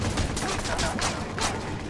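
Rapid machine gun fire in the video game Watch Dogs, a dense sustained burst of shots running through the whole stretch, with a voice talking faintly over it.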